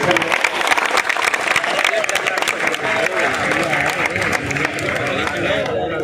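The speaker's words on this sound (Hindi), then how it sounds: "एक बार जोरदार ताली से कवि जी का सम्मान करें।" Audience applause for a Birha singer at a Bhojpuri folk performance in Mau, a dense continuous clapping roar with crowd noise and voices throughout.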